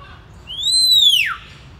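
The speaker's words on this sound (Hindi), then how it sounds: "ये कोयल और तोता, इनको साथ में रखा हुआ क्योंकि इनकी बहुत मीठी आवाज़ होती है ना" A single clear, loud whistled bird call at a zoo aviary holding a koel and a parrot, rising then sweeping down sharply, ringing alone over quiet background.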